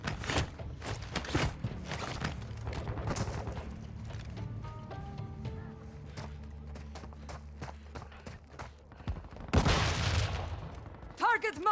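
Gunfire in the video game Call of Duty Warzone during a final-circle fight on Akisha Island: scattered sharp shots and bursts over several seconds, with footsteps and radio-style game voices in between.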